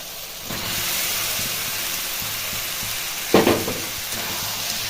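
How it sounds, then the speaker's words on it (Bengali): Boiled potato being fried with masala in oil for Bengali chop filling, a continuous moderate sizzle with faint stirring and one sharp scraping clatter of a spatula against the pan, no speech. "আলুটা দেওয়ার পর ভালো করে কষিয়ে নিতে হবে বন্ধুরা"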